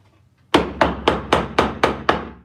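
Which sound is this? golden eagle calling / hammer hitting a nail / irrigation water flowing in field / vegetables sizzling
hammer hitting a nail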